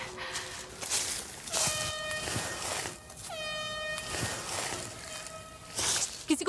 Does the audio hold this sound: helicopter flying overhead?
no